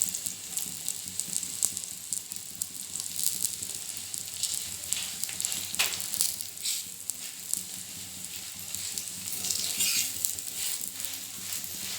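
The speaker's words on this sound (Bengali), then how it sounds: "ওই পিঠটা হয়ে গেলে এই পিঠ ভাজতে হবে। একটু লাল লাল করে ভাজলে ভালোই দেখাবে।" An egg paratha fries in a pan, a steady close sizzle with soft crackling pops and patter throughout, no talking.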